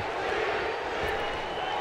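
A dense arena crowd roars steadily in a WWE 2K19 wrestling match at NXT TakeOver: Philadelphia, a loud, continuous wash of cheering with a faint voice in the mix.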